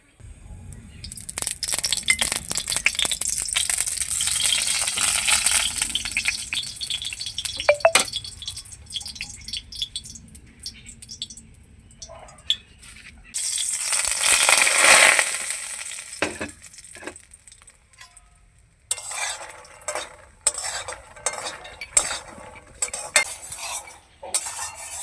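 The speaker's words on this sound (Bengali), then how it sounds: "মাখনাগুলোকে কিন্তু অনবরত এইভাবে নাড়তে হবে" Makhana (fox nuts) are dry roasted in a spoonful of ghee in a pan over medium-low heat and stirred constantly, with rapid scraping, clinking and rattling against the pan over a faint sizzle, coming in uneven bursts.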